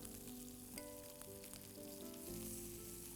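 Onions tossed with kadai masala sizzle steadily in a hot pan, a dense continuous frying hiss with a few soft stirring scrapes and no talk.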